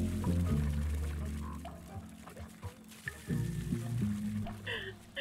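Tears pour like running water in the video game Tiny Echo, a soft liquid trickle and splash set against a low droning game soundtrack, with a brief bright chime near the end.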